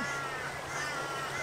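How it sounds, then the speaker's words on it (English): A crow caws in an outdoor park setting near a water fountain, a faint call carried under steady background noise of the open air. "here are some birds. It's a crow."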